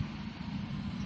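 A tractor engine idles steadily with a low, even rumble that holds at a constant level, with no voices over it.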